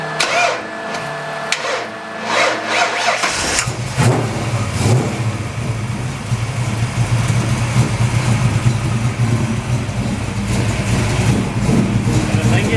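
A 408 Windsor engine in a coupe project car cranks briefly on the starter, then fires and settles into a loud, steady rumbling idle with a few revs; the engine runs close by throughout.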